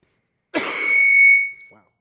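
A single rough cough followed by a drawn-out throat clearing, close and fairly loud in an otherwise quiet space, ending with a faint breath.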